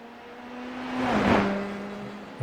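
A race car in the iRacing game, on the Montreal circuit, whines past as it approaches a chicane, its engine tone swelling to a peak around the midpoint and then fading, a single pass heard alone.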